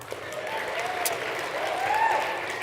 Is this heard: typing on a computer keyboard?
no